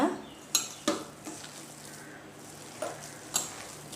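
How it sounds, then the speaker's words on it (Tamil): Vada batter with turmeric and salt is stirred in a bowl, a few separate clinks and taps of a spoon against the rim standing out over a faint, quiet background. "இப்போ இதெல்லாம் சேர்த்து நல்லா நம்ம மிக்ஸ் பண்ணி விடலாம்."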